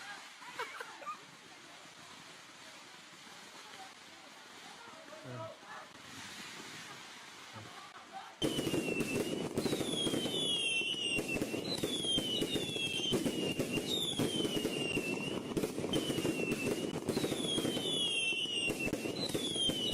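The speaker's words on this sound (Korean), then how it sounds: "지금도 또 폭죽을 터뜨리고 있습니다." Firecrackers set off outdoors in Hebei, China during Lunar New Year, a dense barrage of sharp cracks and pops that erupts loudly after a quieter stretch and continues nonstop, with whistling rockets rising over the crackle.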